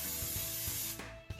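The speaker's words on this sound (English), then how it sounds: "I'm just gonna give the inside a quick spritz with some hand spray" A hand spray bottle hisses steadily for about a second as oil is spritzed inside a cast iron pot at a campfire, then cuts off, leaving a few faint knocks.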